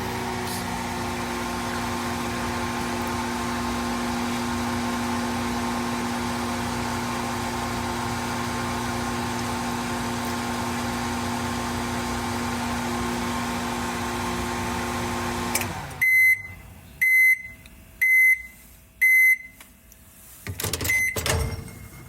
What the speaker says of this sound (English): It was a microwave oven heating up a dish of leftover pasta.